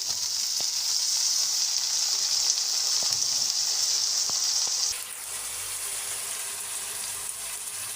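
Small freshwater shrimp from a wetland frying in a pan with bitter gourd, a steady loud hiss that eases and drops slightly partway through, with a few faint clicks of utensils and no talking.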